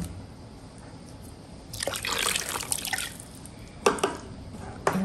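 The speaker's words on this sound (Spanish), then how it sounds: "le vamos a agregar aquí una taza de vinagre blanco" A cup of white vinegar is poured into a pot of hot cooking water, making a splashing gush for about a second and a half, followed by a few isolated drips and trickles.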